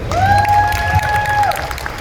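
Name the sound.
audience applause at convention panel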